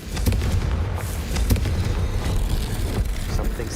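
A Confringo blasting spell goes off in the Hogwarts Legacy video game, giving a continuous low, rumbling explosive roar that stays dense and loud throughout, with a few sharper cracks on top.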